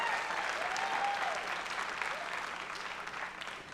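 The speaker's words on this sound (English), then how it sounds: "give them a round of applause" Crowd applause for a band at a live Music City Roots show, a steady wash of clapping from a sizable audience, a few faint cheers mixed in, slowly easing off toward the end.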